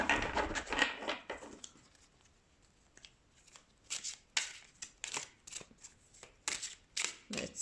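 Oracle cards from a Divine Nature deck being shuffled by hand, a burst of riffling at first, then a quiet gap followed by a series of short, crisp card slaps and flicks at close range.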